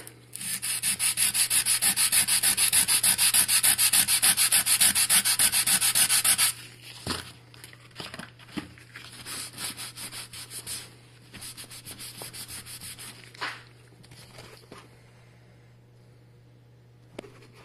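Hand sanding an aluminum wheel edge with pumice, a steady loud scrubbing rasp for about six seconds, then scattered softer rubs, taps and handling sounds.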